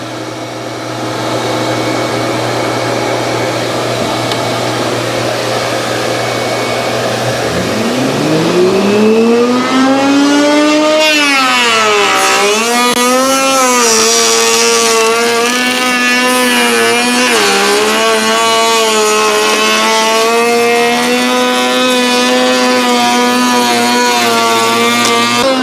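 A loud, continuous shop vacuum roar fills the clip while a router whines up in pitch and holds a high, cutting drone, rising and dipping as it cuts wood trim.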